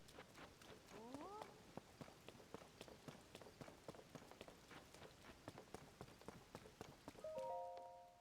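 Rain in Zelda: Tears of the Kingdom near Gerudo Canyon, a faint steady patter of raindrops with footsteps tapping through it and brief in-game tones.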